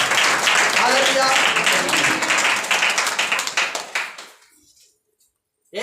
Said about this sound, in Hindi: ताली हो परमेश्वर की